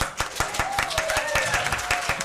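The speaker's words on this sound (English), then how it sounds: "Big round of applause" Audience applause at a team event, with loud, fast rhythmic clapping from several people close by. A couple of faint voices call out over it.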